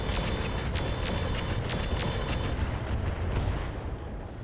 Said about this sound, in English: We're going to fire direct fire sniper artillery.